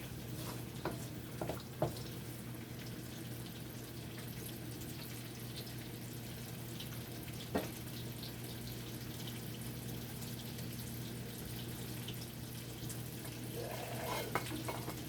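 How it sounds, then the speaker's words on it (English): Ginger and garlic sauté in a pan over turned-down heat, giving a steady low sizzle throughout with a few faint clicks and utensil taps; no one speaks. "Turn this down a little bit and let that saute."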